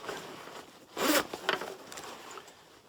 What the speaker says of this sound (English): So it's got a zippered bottom, so you can unzip that and get to the items that are in the bottom of the pack.